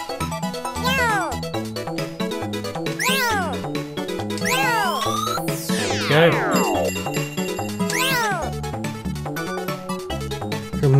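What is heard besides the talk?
kitten meowing in an arcade video game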